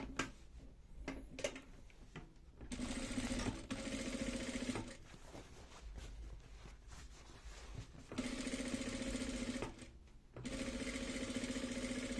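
A sewing machine stitches tote bag handles in several sustained runs of a steady, droning hum, each lasting a few seconds, broken by short pauses filled with handling noise. No one speaks.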